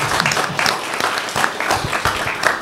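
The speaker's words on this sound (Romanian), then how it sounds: "O rundă de aplauze." Lively audience applause at a talk, with dense clapping and individual claps standing out, steady through the whole stretch.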